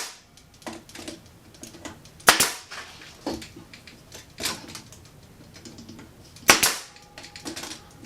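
A staple gun fires 1¼-inch staples into a wooden beehive frame on an assembly jig, giving a few sharp loud snaps spaced seconds apart amid lighter clicks and handling taps.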